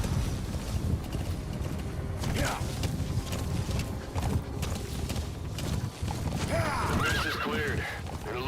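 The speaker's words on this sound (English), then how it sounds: "Good horsey." Horse in Metal Gear Solid V: The Phantom Pain whinnies loudly and its hooves clip-clop steadily throughout, amid busy game noise with a brief spoken line nearby.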